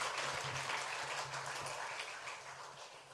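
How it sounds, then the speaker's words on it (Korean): A church congregation applauds warmly for visiting missionaries during a Sunday service, a dense, sustained wash of clapping that fills the room and slowly eases off. "뜨거운 박수를 한번 격려하겠습니다"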